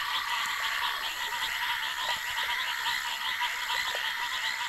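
Foam frogs call during heavy rains in a tropical forest, a dense chorus of rapid, overlapping croaks and trills running continuously and loudly from start to finish.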